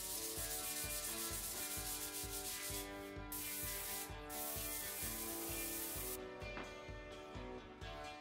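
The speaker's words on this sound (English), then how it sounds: "I added 6 coats of polyurethane while being sure to lightly sand in between each coat." Light hand sanding of a plywood board between coats of polyurethane makes a steady rhythmic rasping, close and fairly quiet, with repeated back-and-forth strokes throughout and no voices.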